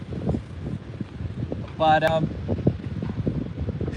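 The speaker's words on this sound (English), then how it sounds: "It's windy" Outdoor wind gusts buffet the microphone with a low, rumbling blustery noise beneath a person talking steadily nearby.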